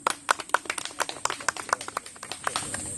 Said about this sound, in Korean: 박수, 박수